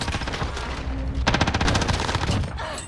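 An AK rifle fires in the video game Warzone on Rebirth Island, with rapid automatic bursts close up, a brief pause and then a longer sustained string of shots.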